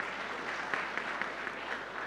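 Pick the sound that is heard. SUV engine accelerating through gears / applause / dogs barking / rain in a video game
applause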